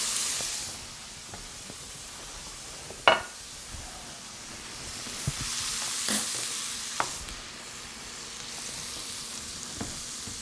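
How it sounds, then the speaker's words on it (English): Steak sears in a hot pan with a soft, continuous sizzle, broken by a few sharp clanks and scrapes of utensils against the pan, one noticeably louder near the start. "Searing now, not cooking through, and that's about right."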